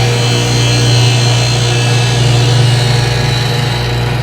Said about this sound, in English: The slower you grind, the better it gets.